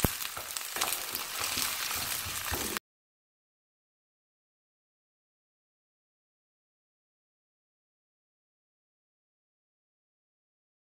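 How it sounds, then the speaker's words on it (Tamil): Sliced onions sautéing in hot sesame oil with cinnamon and fennel for a Chettinad mutton blood curry, a bright steady sizzle that cuts off after about three seconds into silence. "நல்லா பொரிஞ்சதும் வெங்காயம் சேர்த்து வதக்கணும்."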